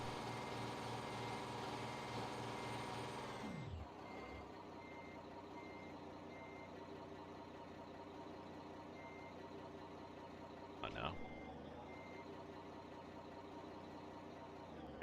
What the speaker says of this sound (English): Let me know if the truck is too loud.